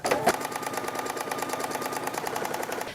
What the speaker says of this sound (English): now I'm just going to sew a 1/4 inch seam allowance along the right hand edge